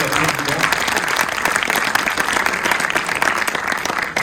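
Audience applause fills a press conference hall, dense sustained clapping from a crowd for the festival president, loud and steady throughout with no break.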